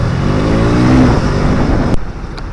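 A 2022 KTM RC200 motorcycle engine drones loud and close while riding, holding steady revs with a brief rise before easing off near the end.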